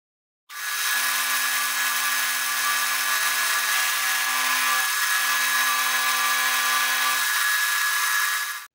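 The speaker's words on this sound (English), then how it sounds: "I'm going to take this bar and machine away exactly half of it." Steady, loud machining of a metal bar as half of it is cut away, a continuous tool-and-motor drone holding for about eight seconds with no talk.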